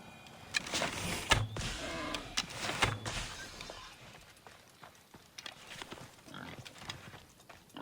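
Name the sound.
pig grunting, from the video game Assassin's Creed Odyssey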